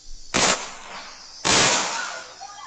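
Two sharp, loud bangs about a second apart, each ringing out with a brief echoing tail.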